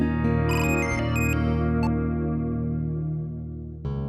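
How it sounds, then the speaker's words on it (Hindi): An electronic telephone ringtone chimes in a bright repeating melodic pattern over a sustained synthetic drone, fading slightly before a new tone cuts in at the end, no speech. "इदरीस के घर से फोन"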